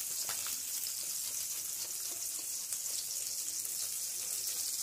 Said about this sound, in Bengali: পেঁয়াজটা এরকম গ্রেট করে দিচ্ছি।